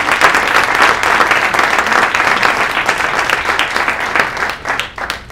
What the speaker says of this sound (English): Let's give them a great hand of applause.